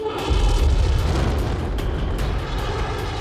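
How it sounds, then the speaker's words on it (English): Space shuttle main engines igniting at liftoff on the final shuttle launch: a sustained, loud, deep roaring rumble with crackling bursts, continuous and overwhelming throughout. "6 seconds before liftoff, the main engines ignite"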